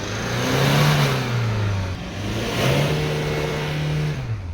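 A 2014 Hyundai Grand Starex with a D4CB diesel engine, suffering low power and heavy black smoke, is revved twice from idle, each rise swelling and holding before easing back, close and loud.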